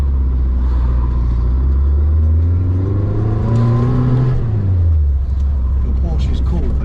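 Renault R8 engine on a dyno revving up to its soft-cut rev limiter, a loud rising engine drone that climbs for a few seconds then drops away, with people talking over it.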